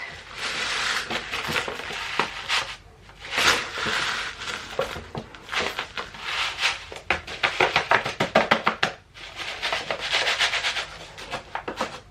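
A scoop digs repeatedly into a soil and sand mixture and fills seed containers, making a close, steady series of gritty scraping and crunching strokes with short pauses between them.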